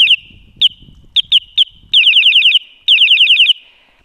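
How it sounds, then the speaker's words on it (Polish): Hornit electronic bell on a Honghao S12 electric scooter sounding loud, piercing chirps: several single blips, then two rapid warbling bursts of repeated tones, close and alone. "Z kolejnych nowinek dorzuciłem sobie dzwonik Hornita,"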